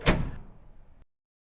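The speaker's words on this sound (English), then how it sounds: "As the door swings shut behind her" A restaurant door swings shut, giving one short bump followed by a brief fading rattle, close and alone.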